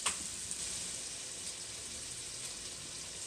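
Peppered bacon sizzling in a pan makes a steady, even hiss throughout, with a small crackle at the very start, moderately quiet and alone.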